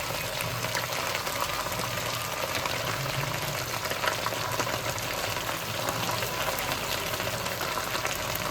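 Onions sizzling in a hot pan for a traditional Spanish tortilla, a steady broadband frying hiss that runs unbroken and fairly close throughout, with no voices over it.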